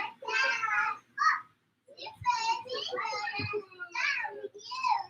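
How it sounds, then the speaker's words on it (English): Young children chatter and call out nearby in quick bursts of high, lively voices with short pauses between them, playing close by in a home. "I hear my kids playing."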